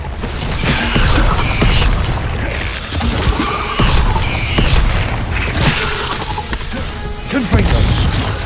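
Repeated booming spell blasts from the Confringo blasting curse in Hogwarts Legacy, loud and dense, layered with crashing, creaking mechanical combat noise throughout.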